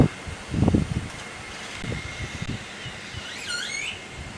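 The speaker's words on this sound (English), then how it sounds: "Hearing the great-tailed grackles beneath us." Shrill rising and falling whistles and squeaky calls from great-tailed grackles nearby, over a low rumble with a few soft thumps.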